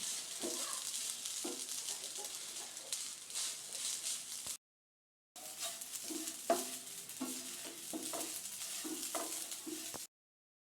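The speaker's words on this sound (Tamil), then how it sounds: "இப்போ நல்லா தேங்காய் சேர்த்து நம்ம நல்லா வதக்கிக்கிட்டு இருக்கோம்" Grated coconut sautés in a pan for coconut burfi, giving a soft, fairly quiet frying hiss with light stirring scrapes, broken once by a short silence.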